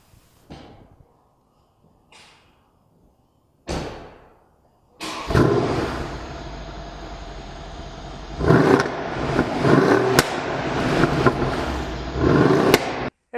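Exterior pass of a 2012 Mercedes-Benz E63 AMG: a few brief thumps and swells, then a loud sustained engine roar with surging rises as it drives past, mid-distance, no talk.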